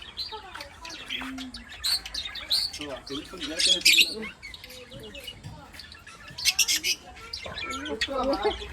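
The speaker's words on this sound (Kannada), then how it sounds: "ಇನ್ನೋಡಮ್ಮ ಪಕ್ಷಿ ಅಲ್ಲೂ ಇದೆ" Birds chirp and squawk in repeated bursts at a resort, fairly close and loud, mixed with people talking throughout.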